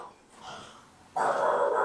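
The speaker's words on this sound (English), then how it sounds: "he likes to bark at the squirrels" A dog barks at squirrels, giving two bursts: a short, softer bark early on, then a louder, sustained bark-like sound in the second half, heard alone with no talk.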